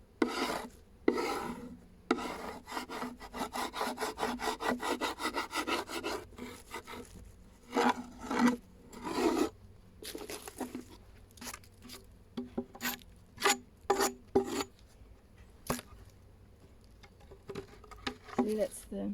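A scraper rasping across a wooden beehive base board to lift propolis deposits, in steady rapid back-and-forth strokes, then slower separate scrapes, close and fairly quiet with no talking.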